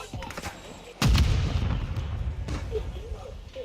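A Semtex grenade detonates in Modern Warfare II multiplayer with a sudden loud boom at about one second. A rumbling tail follows under the game's ambient noise.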